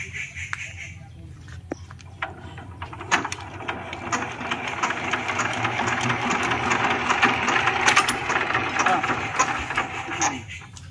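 Old engine being started after repair, then running with a rough, rapid mechanical chatter that builds in loudness, close by, with people talking over it.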